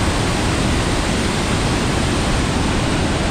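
Hasne waterfall in the dense Dajipur forest gives a steady, loud, broadband roar of rushing water with no breaks and no voices.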